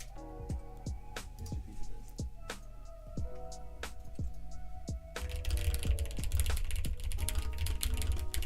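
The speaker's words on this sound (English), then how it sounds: "this keyboard here is a custom keyboard I built myself to kind of suit my own typing needs" Keys clack on a custom-built keyboard in a steady run of crisp, close clicks, growing denser and busier toward the end.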